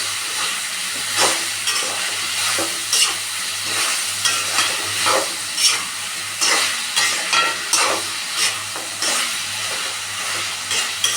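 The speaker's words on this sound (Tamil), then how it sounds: "போட்டுட்டு நல்லா கிளறணும்." Chicken masala for Chettinad pepper chicken is stirred in a frying pan, giving repeated scraping strokes at a fairly regular rhythm over a steady sizzle and hiss, close up with no talking.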